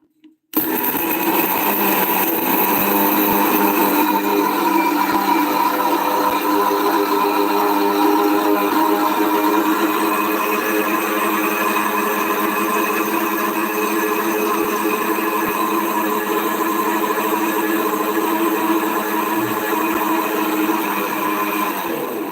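An electric grinder runs continuously, grinding ingredients into a smooth paste for a village home remedy, with a steady loud whirring motor hum that holds for about twenty seconds, without talk.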